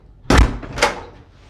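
A timber front door of a house opens and closes with a heavy close thump followed by a second softer knock and a brief rattle, alone without speech.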